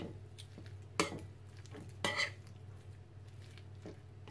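A spoon stirs beef sauté with pepper in a pan, giving two distinct scraping clinks and a lighter one against a faint background sizzle.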